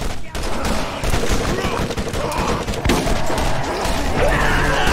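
Gunfire and a grenade blast in the Borderlands shooter game, a dense, loud barrage of shots and crashing impacts running continuously, with a sharp burst near the middle.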